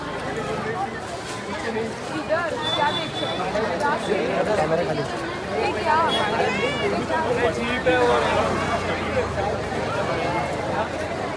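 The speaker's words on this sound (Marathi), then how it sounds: "आता फक्त स्टार्टिंग गर्दी झालेली आहे." Dense crowd chatter and babble fill a busy Mumbai street during the Ganesh festival, with many voices close and far, footsteps and general hubbub continuing throughout.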